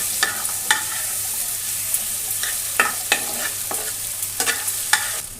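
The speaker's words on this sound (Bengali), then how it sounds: "মশলাটা কষিয়ে নেব।" Spice paste with ginger paste sizzles low and steady in a pan over a low flame, with a spatula scraping and stirring in irregular strokes; close, moderately loud, no talking.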